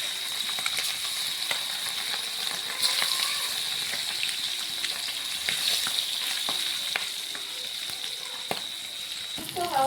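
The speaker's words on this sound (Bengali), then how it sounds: "আমাদের এখানে বেগুন দিয়ে মাছের তেল ভাজি হচ্ছে।" Fish and fish fat with eggplant frying on two stoves, a dense continuous sizzle and crackle with occasional scrapes of stirring, steady and close throughout.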